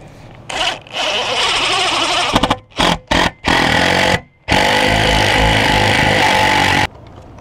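A power drill drives a self-drilling screw into a bike rack fitted for sewer tote storage, heard as loud, close motor bursts: one long run, several quick trigger pulses with short silences between, then a final sustained whir before cutting off.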